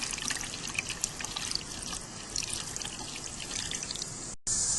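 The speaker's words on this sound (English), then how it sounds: "I'm going to add water in this case." Water is poured into a car radiator while the cooling system is being filled, a steady close splashing trickle that runs continuously, broken by a brief cut near the end, with no talking.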